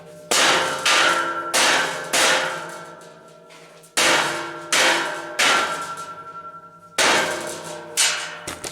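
Heavy hammer blows strike metal shelving racking during assembly in a shed, in quick clusters, each clanging hit ringing out and decaying, repeated roughly a dozen times nearby.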